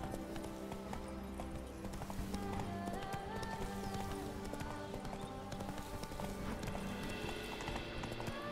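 A horse gallops in The Witcher 3: The Wild Hunt's Blood and Wine expansion, rapid rhythmic hoofbeats pounding close and steady over music and ambient game sound, with no voices.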